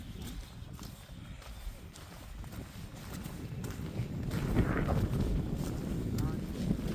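Wind gusts across the open moorland at the B29 bomber crash site in the Peak District, a steady rushing roar that buffets the microphone and builds toward the end, with people talking over it.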